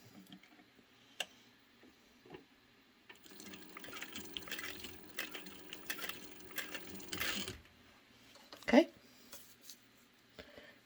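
Sewing machine stitching a seam on a bag, a short burst of soft rapid needle chatter in the middle of the stretch, fairly quiet, with a few light clicks before and after.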